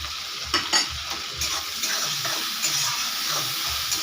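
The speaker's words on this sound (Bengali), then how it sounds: "দিয়ে দেব চিংড়ি মাছ, দিয়ে একটু ভালো করে আমি ভেজে নেব" Prawns sizzle in a pan with turmeric, chilli powder and salt, a steady close broadband hiss broken by a few scraping stirs of a spatula, with no voices.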